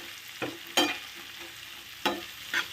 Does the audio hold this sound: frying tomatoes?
yes